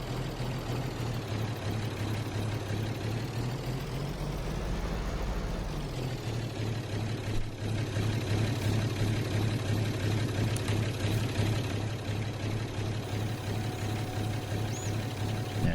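Steady low engine drone of a tractor in Farming Simulator 22, cruising at a constant slow speed, loud and continuous with a brief change in pitch partway through and no talking over it.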